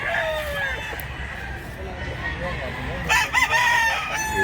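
A rooster crows loudly nearby, followed by a second, shorter crow, against a background of outdoor noise at a rural poultry sale.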